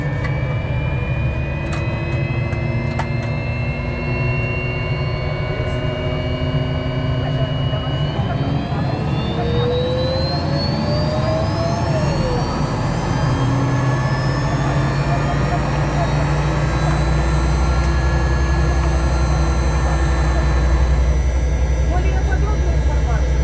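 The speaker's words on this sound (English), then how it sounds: "Pretty soon the 3 Ewchenko jet engines powered into life right behind me." Three Ivchenko jet engines of a roughly 40-year-old Soviet Yak-40 airliner spooling up close behind the cabin, a loud steady roar with whines rising in pitch and then holding.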